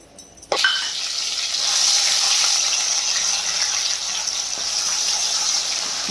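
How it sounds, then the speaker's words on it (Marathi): Cumin and onion hit hot oil with a sudden loud splash, then a steady, bright sizzle of frying continues for several seconds. "हे जिरे जिरे छान फुलल्यानंतर हे कांदा टाकून घेते"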